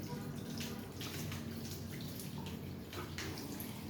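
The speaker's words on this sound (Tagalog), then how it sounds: "Kaya isa-isa natin huhugasan yan." Sweet potato tops are washed under running water, a continuous splashing and rushing with gurgling close by, with faint voices underneath.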